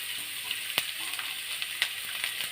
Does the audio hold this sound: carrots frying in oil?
yes